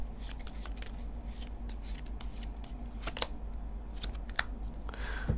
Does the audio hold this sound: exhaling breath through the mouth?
no